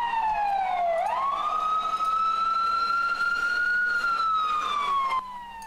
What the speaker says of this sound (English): where we're seeing the sirens